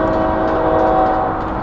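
A loud, close train blasts a steady sustained horn tone over a rumbling roar, with no talking.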